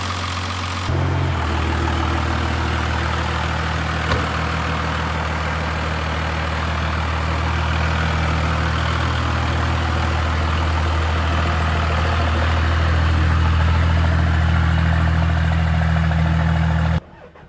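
A first-generation Cummins diesel truck with a six-speed idles close by, a loud, steady low rumble that holds evenly throughout before cutting off abruptly at the end.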